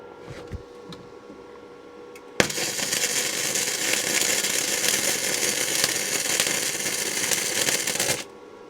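A harsh, steady crackling buzz starts abruptly, runs continuously for several seconds, then cuts off: a SIP Synergic MIG welder arcing through a rusty exhaust pipe up close.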